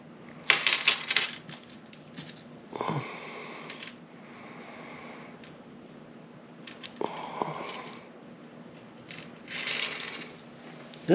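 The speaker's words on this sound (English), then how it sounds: "all that's left to do now is take our chain" Small metal links of a necklace chain clink and rattle in bright jingling bursts while being threaded through a heart pendant, with quiet gaps and softer handling noises between.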